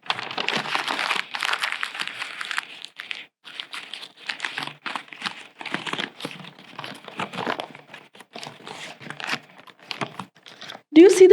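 Close, steady crinkling and rustling of a sheet of paper being crumpled by hand goes on for about eleven seconds, with a few louder crunches near the end.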